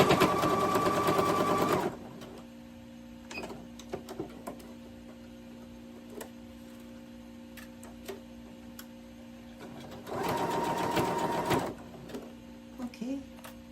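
Sewing machine stitching doll-sized clothes runs in two loud, steady bursts of rapid mechanical whirring, at the start and again near the end, with quiet ticking and faint background hum between.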